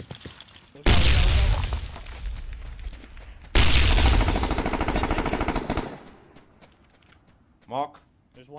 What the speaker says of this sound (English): Oh shit, I'm getting sniped.